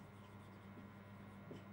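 Marker or chalk writing on a board during a chemistry lesson, a very faint, soft scratching and rubbing with small strokes, quiet and close.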